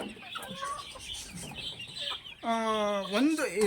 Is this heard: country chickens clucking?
yes